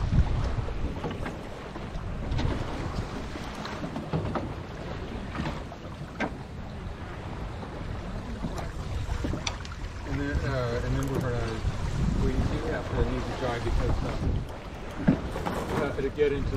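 Wind rushing over the microphone while sailing a boat in a fall yacht club race, a continuous gusty roar with water noise and crew voices talking throughout.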